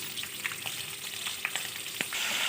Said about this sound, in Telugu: కొద్దిగా ఫ్రై అవ్వనించి ఆనియన్స్ వేసుకోవాలి